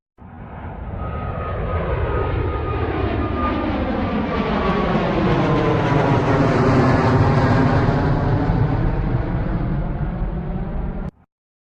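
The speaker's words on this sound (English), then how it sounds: "plane," A fixed-wing airplane engine roars past, swelling from a steady drone to a loud, full peak before cutting off abruptly at the end, with no other sounds.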